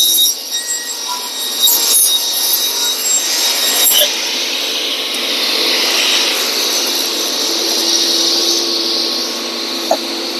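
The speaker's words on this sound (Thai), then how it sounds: "เราสามารถเลื่อยได้เลย" Wood being sawed by hand, a sustained rasping scrape that swells and eases over several seconds, close by.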